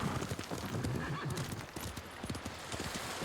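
Horse hooves clip-clop steadily with a neigh or whinny from a horse in the Ghost of Tsushima video game, layered over busy game ambience with no talking.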